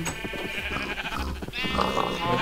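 Sheep bleating on a small village farm that also keeps pigs and rabbits; several close, loud, wavering bleats overlap one another and carry on almost without pause.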